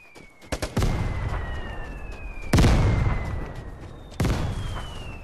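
Mortar shells strike in the Vigor video game, three loud, close blasts spaced a couple of seconds apart, each trailing into a long rumbling decay, with a descending whistle before each impact.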